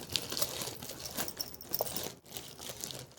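A plastic bag holding cinnamon, handled up close with quiet, continuous crinkling and rustling, uneven and soft, with no speech over it.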